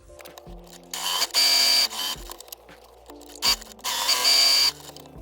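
Sewing machine stitching a French seam 6mm in on a dress bodice, running in several loud, close bursts of rapid whirring separated by brief pauses and small clicks.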